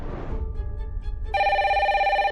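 A telephone rings in a reality-show house: a faint tone first, then a loud, steady electronic bell that holds for about a second, with no talk over it.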